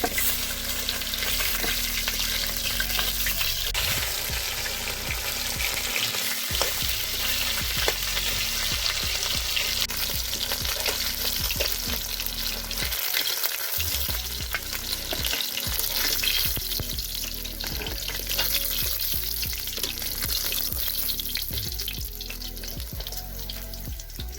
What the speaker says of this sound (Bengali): এভাবে আমি সব মাছগুলো ভেজে নেব।